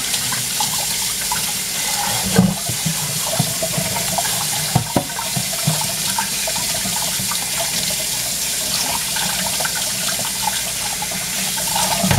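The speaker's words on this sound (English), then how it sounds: "Give it a good rinse because it's been under the sink." Running tap water pours steadily into a sink while an item is rinsed, a continuous close splashing stream with a couple of brief knocks.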